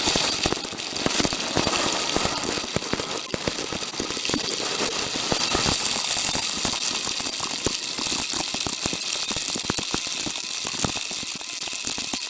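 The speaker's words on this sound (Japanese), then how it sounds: "かなり雨が強くなりました。 カメラに当たって面白い音が鳴っています。" Heavy rain beats directly on a camera during a downpour at a dump site. The close, dense, crackling patter clatters continuously throughout with a faint mechanical rumble beneath.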